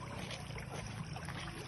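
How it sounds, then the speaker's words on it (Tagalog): A strong river current flows steadily at Baras, Rizal, a low continuous rush of water with no voices. "Malakas ang agos. Medyo malalim."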